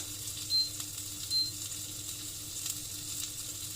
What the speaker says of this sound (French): Je viens mettre un petit peu de beurre dans ma poêle.